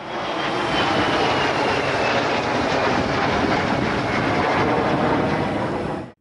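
A T-50i Golden Eagle fighter jet of the Indonesian Air Force flies with a steady, loud, broadband engine roar that holds constant throughout, with no talk over it.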